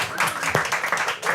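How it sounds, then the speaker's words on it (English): A room audience claps through a short round of applause welcoming three speakers at an industry talk about women in the industry, with broadband clatter filling the brief moment and a voice briefly audible beneath it. "Round of applause."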